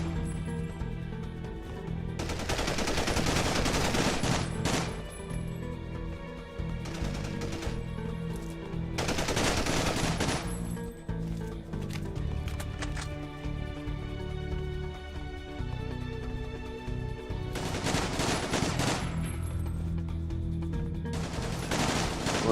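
Bursts of automatic gunfire from the police shooter game GEO Police 2, several loud volleys of rapid shots separated by short lulls over a continuous game background.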